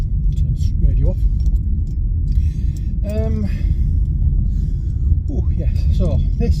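Steady low road rumble and engine drone inside a moving MG HS car, loud and continuous, with a voice talking in short bursts over it.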